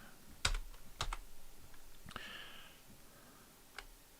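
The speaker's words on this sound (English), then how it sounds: "I started typing this right in the middle of the last joke." Typing on a computer keyboard, a handful of scattered, sharp key clicks spread unevenly over several seconds, faint against a quiet background hiss.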